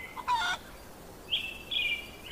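Short, bright clucks and calls from a hen and rooster in an animated fable, a quick burst followed by two longer, stretched calls, close and clear with no talk.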